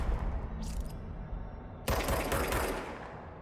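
A gun fires in the video game Control: a short burst of shots, then a longer, louder volley that trails off, heard alone without talk.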